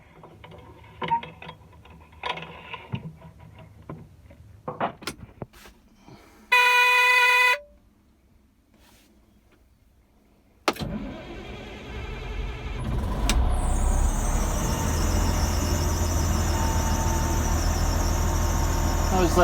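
A CAT D6R bulldozer diesel engine is cranked and settles into a steady low idle, a loud continuous rumble following some earlier clicks, clatter and a brief high tone.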